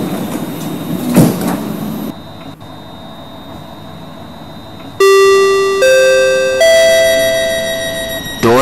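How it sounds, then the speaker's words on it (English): Train doors closing: a rustle and thump, then a loud sequence of bright electronic warning chime tones stepping in pitch, clear and close with no speech. "Doors are closing. Please do not block the doors."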